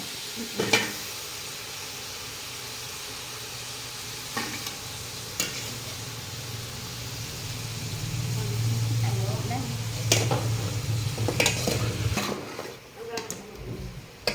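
Meat sizzles in a pan while being stirred, with a steady frying hiss, occasional scraping knocks of utensil on metal, and people talking over it.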